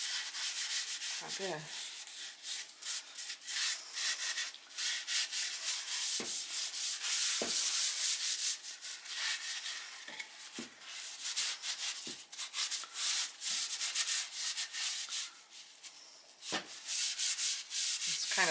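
Tung oil being rubbed by hand into a wooden cutting board makes a steady, close, high scratchy rubbing, broken by brief knocks and soft handling noises, with a short spoken remark near the start.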